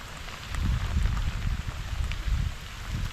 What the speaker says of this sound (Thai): ฝนกระตก